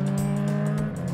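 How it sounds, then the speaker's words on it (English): Race cars drive past, heard from above during a helicopter ride as a steady, loud engine drone with pulsing passes. "Race cars."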